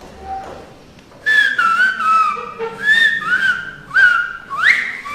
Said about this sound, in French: il y a un petit regain de la langue sifflée, comme en Turquie, en France ou sur l'île de la Gomera